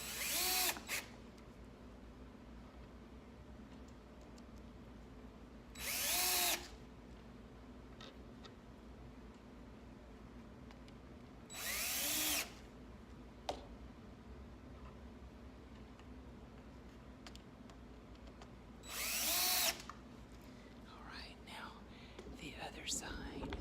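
A power drill drives short screws into a flamingo stand during assembly, four loud, short whirring bursts spaced several seconds apart, with quiet handling noises and faint whispering between them.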